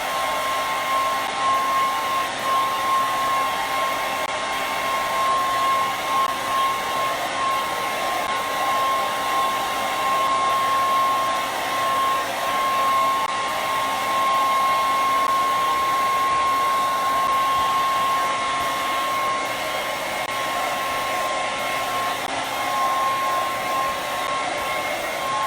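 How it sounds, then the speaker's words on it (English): A hair dryer blows steadily and loudly throughout, a constant whooshing hum with a tonal whine, no talking. "I'm going to take this to the hairdryer for a moment."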